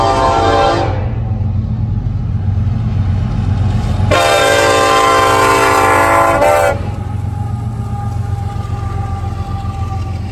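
A northbound train passes near Sandal Junction, its loud rumble and wheel noise continuous throughout while the horn sounds briefly near the start and then gives a longer blast mid-pass, with no talking.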